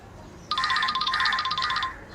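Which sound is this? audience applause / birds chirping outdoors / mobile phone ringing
mobile phone ringing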